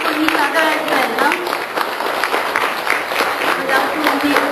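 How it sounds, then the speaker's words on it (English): Audience applause at an award event honoring local heroes in Kolkata, a dense, steady roomful of clapping that is close and continuous, with some voices mixed in. "a very big round of applause for all our 16 heroes"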